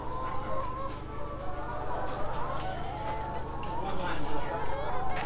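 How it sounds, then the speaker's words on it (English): Chickens loose outside their pen on a farm cluck and squawk in scattered overlapping calls at moderate distance over a steady outdoor background hum, while people talk over them. "So we have a few chickens running around here that we're trying to put back"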